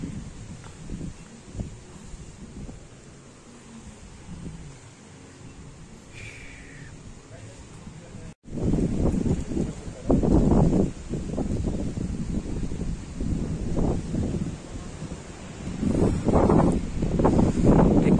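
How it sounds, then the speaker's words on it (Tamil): Strong wind gusts near a hill temple on Velliangiri mountain in Poondi, Tamil Nadu, quieter at first, then roaring loudly and steadily in buffeting bursts against the microphone, with speech faintly present. "காத்து பயங்கரமா அடிச்சுட்டு இருக்கு."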